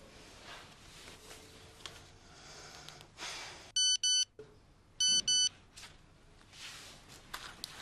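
A mobile phone sounds two loud electronic message-notification beep bursts, each made of quick repeated tones, over a quiet indoor room with faint breathing and rustling.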